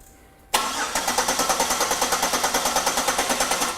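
A car engine cranks over on the starter after a quiet moment, a loud, close, rapid rhythmic chugging that repeats steadily without catching.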